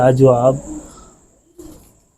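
A golden pigeon coos once in a close, loud call with a wavering pitch, then gives a softer sound after a pause, with a faint high whine running behind.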